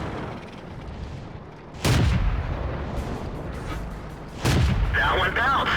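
Two sharp, loud cannon blasts from a Matilda tank in World of Tanks, spaced about three seconds apart, each with a booming low tail over steady engine rumble and battle ambience.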